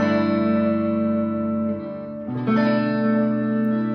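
A Mesa Boogie JP2C amplifier's clean channel carries an electric guitar on the neck pickup: a warm, sustained chord rings and decays, then a second chord is struck and held, loud and close with no voices.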